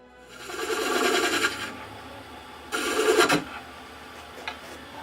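Two bursts of raspy, whirring abrasion over a low motor hum, the first longer and the second shorter, like sandpaper held against spinning wood.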